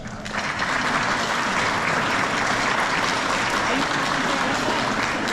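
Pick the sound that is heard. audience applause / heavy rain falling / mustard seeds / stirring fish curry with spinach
audience applause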